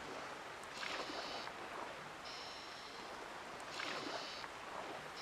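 A boat glides across the sea in the Animal Crossing video game, with a faint, steady wash of water and wind and a few soft swells rising and falling.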